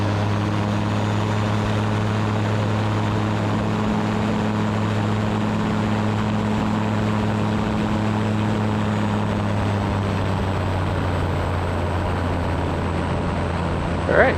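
A Super Petrel amphibious aircraft's engine drones loudly and steadily from inside the cockpit as power comes up for a water takeoff, a constant propeller hum with a strong low tonal buzz that shifts late in the clip.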